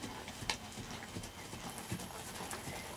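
A horse trots with rhythmic clip-clop hoofbeats under a rider, the footfalls moderately close and fairly quiet against faint outdoor background noise.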